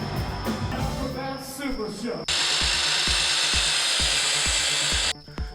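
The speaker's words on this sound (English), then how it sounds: "I used my chop saw or miter saw and cut it into little wafers" A chop saw or miter saw slices a tree branch into thin wooden wafers, starting abruptly with a loud, sustained whining grind and rhythmic thumps for about three seconds, with a voice heard briefly beforehand.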